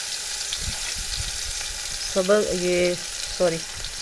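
Spices frying in oil for yakhni beef pulao, chili flakes, salt, ground coriander and cumin in the pan, a steady soft sizzle throughout, with a brief voice and clatter near the end.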